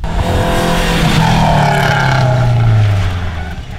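A rally car at a tropical sprint rally rushes past close by, its engine note rising loud and then sliding downward as it moves away, fading toward the end.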